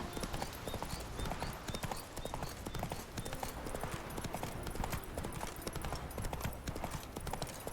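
Horse hooves clip-clop steadily at a walking pace in The Witcher 3, over a dense layer of game ambience with an occasional faint whinny.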